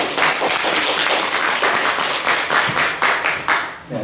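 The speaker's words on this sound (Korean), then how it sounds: "그냥 박수로 한번." Congregation clapping steadily during a church service, a dense, continuous wash of applause filling the room at close range and fading out near the end, with no voices heard over it.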